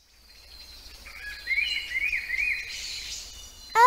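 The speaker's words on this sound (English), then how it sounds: "Oh, it's a bird." A bird sings a bright series of whistled, chirping notes, fairly close and clear, with a faint low hum beneath and a sudden sharper sound at the end.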